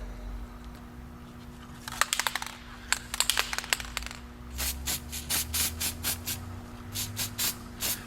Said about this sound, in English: I'm just going to take a little bit and spray it on the back of the gasket.